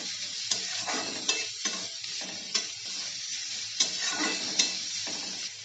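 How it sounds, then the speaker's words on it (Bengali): Onions fry with a steady sizzle in a pan while a spoon stirs them, giving repeated scraping strokes and soft clacks at an irregular rhythm, close and moderately loud, with no talking. "প্রথমে আমি পেঁয়াজগুলো দিয়ে দেব। পেঁয়াজটাকে প্রথমে একটু ভাজা করে নিতে হবে।"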